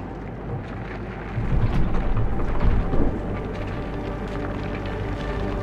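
A storm rumbles in the sci-fi video game Fort Solis, a broad, dense roar of wind and distant thunder that swells for a couple of seconds in the middle and then settles back to a steady low drone.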